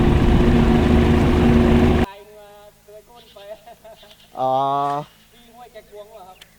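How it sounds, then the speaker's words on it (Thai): A motorboat's 60-horsepower outboard engine roars loud and steady for about two seconds, then cuts off, leaving talk and a brief tonal engine-like drone afterward. "เครื่องใหญ่มาก 60แรงนะครับ เดี๋ยวผมจะขับเองโอเค"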